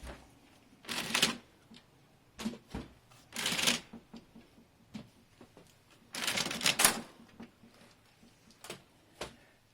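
Plastic parts click, rattle and slide in short bursts with pauses between, close by, as the drum and toner cartridge are pulled out of a Brother MFC-L3710CW laser printer.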